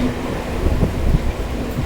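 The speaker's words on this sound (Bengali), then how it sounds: "আমাদের ট্রেনটা এখন বিরাটি স্টেশন থেকে ছেড়ে দিল" A Sealdah–Bangaon local train rumbles along just after leaving Birati station, a steady low roar of wheels and carriage noise heard from inside, with no talking.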